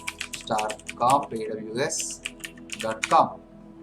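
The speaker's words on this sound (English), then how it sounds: "just type your bucket name here" Keystrokes on a computer keyboard while a bucket name is typed into an Amazon Web Services S3 setup page, short clusters of clicks mixed in with someone talking throughout.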